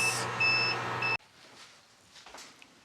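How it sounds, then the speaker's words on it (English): A power inverter being load-tested while discharging a 12V 100Ah LiFePO4 battery gives off a loud, steady electronic beep with sharp tonal pulses that cuts off abruptly after about a second, leaving faint background noise. "This inverter just beeping."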